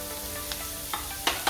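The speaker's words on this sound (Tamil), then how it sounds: "வெங்காயம் நல்லா வதங்கிடுச்சு. இந்த டைமில் நம்ம கேரட் கொட்டிக்கலாம்." Carrots go into a pan of sautéed onions and crushed garlic, producing a continuous quiet sizzle broken by a few sharp clicks and scrapes of stirring.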